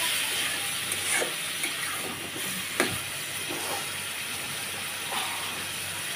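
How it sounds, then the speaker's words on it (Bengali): Sweet pumpkin sautés in a pan for a home-style curry with Malabar spinach and prawns. A steady hiss of frying carries a few light stirring scrapes and one sharper scrape near the middle, close and unvoiced. "মিষ্টি কুমড়াটাকে কিছু সময় একটু কষিয়ে নিচ্ছি"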